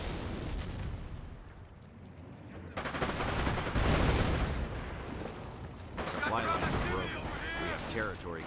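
Artillery shells and rattling gunfire from a Company of Heroes battle, with bursts of machine-gun fire and heavy impacts as Grenadiers and Rangers clash over a victory point, dense and continuous throughout.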